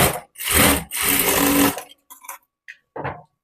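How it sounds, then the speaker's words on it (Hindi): A sewing machine double-stitches the belt of a blouse in close, loud bursts: two longer runs of rapid stitching, then a few short, quieter stitch bursts separated by pauses. "बेल्ट में भी डबल सिलाई लगा दे रही हूँ"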